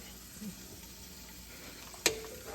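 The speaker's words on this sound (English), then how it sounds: "Now I'm adding or sauteing the sausage to cook down some of the oil" Sausage sautés in a gumbo pot with a faint, steady sizzle while being stirred, and a single sharp utensil knock rings out near the end.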